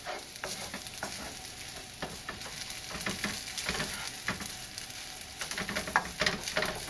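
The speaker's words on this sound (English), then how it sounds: "We're just going to stir it up. Get as much of the egg off the bottom as we can." Egg fried rice with kimchi is stirred in a hot pan, a steady close sizzle broken by frequent scraping and clicking strokes of the utensil across the pan bottom.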